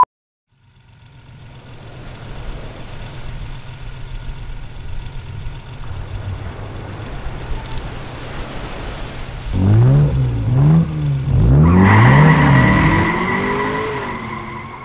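A Ferrari car engine idles with a low steady burble, then revs hard several times in rising and falling bursts that swell loud near the end, with a tire-squeal-like edge.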